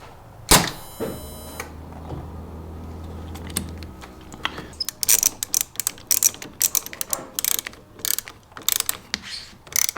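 An 8mm socket on a ratchet tightens a nut during a fuse relocation job on a Ford Raptor, giving close, quick bursts of dry clicking after a few handling knocks and a brief hum.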